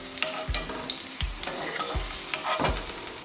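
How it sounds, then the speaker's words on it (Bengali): Cubed potatoes salted and frying in oil in a home kitchen, with a steady sizzle broken by several sharp stirring knocks of a utensil against the pan. "সামান্য নুন দিয়ে আলুটা ভেজে নেব।"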